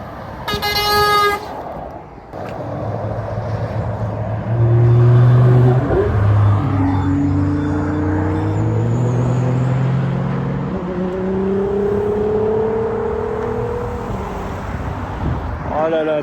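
Convoy of sports cars, including an Audi R8 V10 and a Nissan GT-R Nismo, passing on a Normandy motorway, a sustained loud engine drone with a horn toot near the start, under excited talk.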